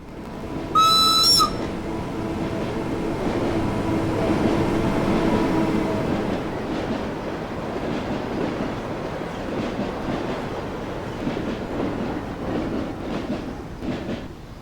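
A Rhaetian Railway train on the electrified Albula Line in Train Simulator rolls along with a steady low rumble and faint rhythmic clatter, after a short high-pitched tone near the start; no one speaks.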